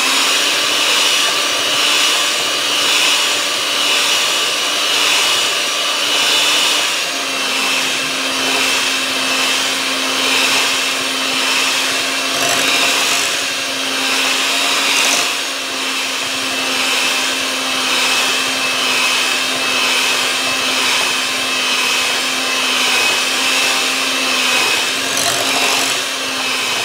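Electric mixer beating keto chocolate chip walnut cookie dough with baking powder and salt, a loud steady motor whine running continuously throughout with a slight shift in pitch partway, close up and with no talking.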